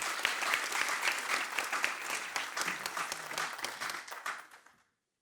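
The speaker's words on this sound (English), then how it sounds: "One more round of applause for our star." A round of applause from an audience at a celebration, dense sustained clapping at a strong steady level that tapers and stops abruptly near the end, with little talk.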